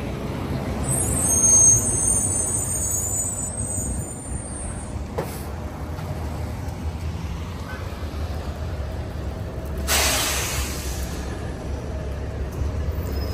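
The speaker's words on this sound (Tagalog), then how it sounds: "Traffic sa kalsada. Rush hour." Rush-hour road traffic on a busy street in Canada, a steady low rumble of passing vehicles with a sharp air-brake hiss from a bus or truck and brief louder bursts.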